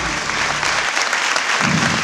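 Audience applause for a singer at a 2012 Christmas event, a thick, loud, sustained round of clapping from a crowd with no pauses.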